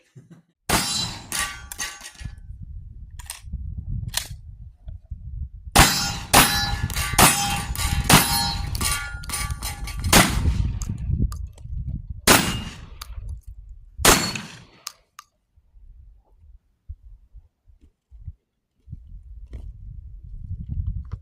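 An FN semi-automatic tactical shotgun fires at steel targets outdoors, sharp blasts followed by ringing metallic clangs in quick bursts separated by pauses, loud and close with no talking.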